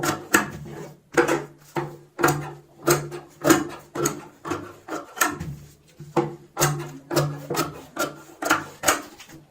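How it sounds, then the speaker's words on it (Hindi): Scissors cutting extra fabric for a cushion cover with a half-inch margin, a close, rhythmic series of crisp snips and rasping strokes repeating steadily throughout. "अब हम आधा इंच का मार्जिन रखते हुए एक्स्ट्रा कपड़े की कटिंग कर लेंगे।"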